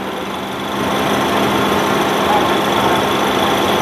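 A running engine hums steadily up close, rising slightly in level after a moment and then holding a constant, slightly rattly drone.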